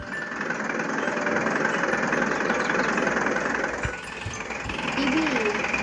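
An RV engine in a Roblox game idles with a steady, rough mid-range drone that runs almost unbroken, dipping briefly near the end, with faint voices underneath.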